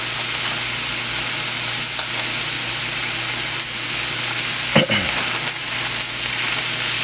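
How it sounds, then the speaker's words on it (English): Butter sizzling in a hot frying pan, a steady broadband crackling hiss throughout, with a brief clatter of a utensil stirring partway through. "now to that I'm going to add a little butter"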